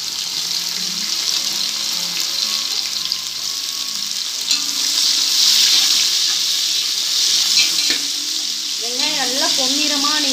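Onions frying in oil for mutton biryani give a steady close sizzle with a few stirring clinks, and toward the end a short burst of rising, warbling tones cuts in.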